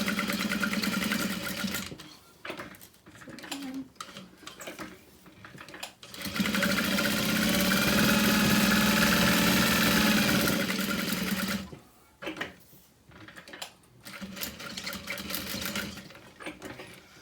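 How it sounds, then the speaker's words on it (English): A sewing machine stitches a Victoria wristlet at a 4.5 stitch length, running in close, loud whirring bursts: short stop-start runs, then one long steady stretch, then more brief runs. "I'm just going to stitch along one side and come back to the top and bottom using a stitch length of"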